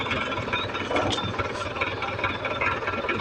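A tractor engine runs steadily while pulling wire for a power tower line, a mid-pitched rattling drone with slight vibration, heard fairly close with no talk.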